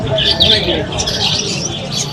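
Several birds chirp and squawk close by amid a busy crowd at Pallavaram market in Chennai, voices murmuring underneath the calls.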